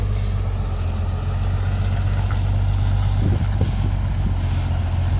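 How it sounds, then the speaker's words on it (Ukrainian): A ZIL-130 truck fitted with a Mercedes engine runs steadily nearby, a loud, constant low engine drone with a strong hum that holds for the whole stretch, with no talking. "Зіл 130 з мерсовським движком"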